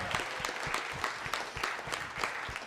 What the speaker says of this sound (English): Let's just give a round of applause for us.